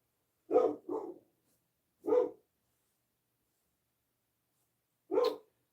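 A dog barks four times nearby while someone paints with acrylics: a quick double bark, a single bark a moment later, then one more after a pause, with quiet in between and no talking.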